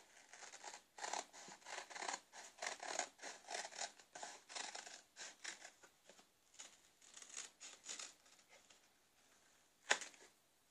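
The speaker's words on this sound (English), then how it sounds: "these small scissors are mine" Small scissors snip through paper while cutting pieces for a lapbook journal made from old books, giving a run of quiet, rapid crisp cuts in bursts, then a pause and one final sharper snip, with no talking.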